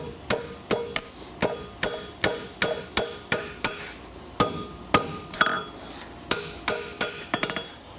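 Sharp, ringing hammer blows shape a horseshoe heel on a 200 lb Edens Scott anvil, struck close up in a steady rhythm of about sixteen strikes with brief pauses between groups.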